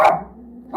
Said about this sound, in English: His barking annoys people in my house